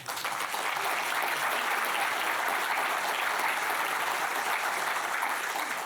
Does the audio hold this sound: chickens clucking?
no